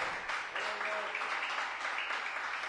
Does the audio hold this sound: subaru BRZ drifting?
no